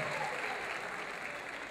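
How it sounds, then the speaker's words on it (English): An audience at a university fashion show applauds in a brief, continuous wash of clapping, with some crowd voices mixed in. "Round of applause."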